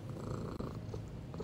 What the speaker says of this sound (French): Est-ce que vous l'entendez ronronner?